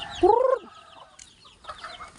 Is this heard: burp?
no